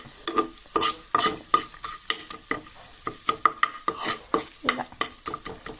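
Ginger garlic paste with turmeric fries in a hot pan, a steady close sizzle broken by frequent scraping stir strokes of a spoon against the metal, busy and rhythmic throughout with no voices.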